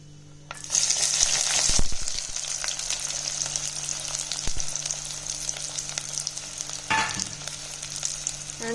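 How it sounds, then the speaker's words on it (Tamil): Chopped large onions drop into hot oil after the mustard seeds have spluttered, setting off a sudden loud sizzle that settles into steady close frying, with occasional stirring scrapes in the pan. "கடுகு வெடிச்சோன்னா நறுக்குன பெரிய வெங்காயத்தை போட்டுருங்க."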